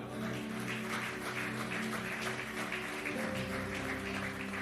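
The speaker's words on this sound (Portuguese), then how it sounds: "Você pode aplaudir o Senhor?" A church congregation applauds in a steady, sustained wash of clapping, with an organ or keyboard tone sustained beneath it.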